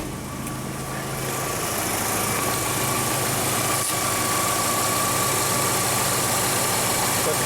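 A Volkswagen Jetta engine idles with the AC compressor engaged and the blower on full, a steady, loud mechanical hum and whir with a constant tone and faint knock-like pulses.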